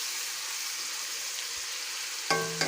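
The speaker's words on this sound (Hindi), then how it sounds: "1 टेबलस्पून मैं इसमें लहसुन अदरक का पेस्ट डालूँगी और उसकी भी अच्छी से भुनाई कर लेंगे" Ginger garlic paste frying in hot oil with spices, a steady soft sizzle running throughout, with a brief stir or clatter near the end.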